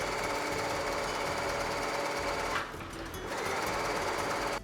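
A sewing machine stitches a seam down the center line of a fabric face mask, running in a loud continuous whir that pauses briefly midway before resuming.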